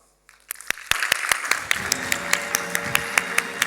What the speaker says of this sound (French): Je vous demande de faire un tonnerre d'applaudissements à Alexis